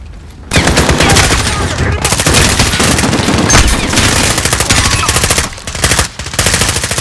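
A machine gun nest fires in sustained, rapid bursts in Call of Duty Modern Warfare, loud and close, with brief pauses between long volleys of gunfire.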